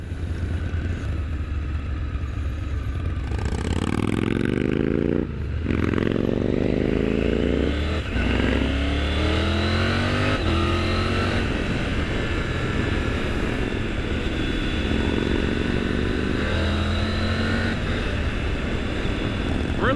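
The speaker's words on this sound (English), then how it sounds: "Harleys are loud." A group of loud Harley-Davidson motorcycles rides together, their engines rumbling and revving up and down in overlapping waves close by for the whole stretch, with no talk over them.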